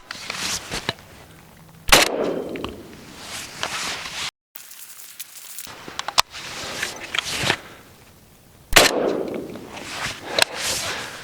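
Rifle shots from 7.62x39 ammunition during ballistic testing: three loud, sharp cracks spaced several seconds apart, each with a ringing decay, plus handling noise between them.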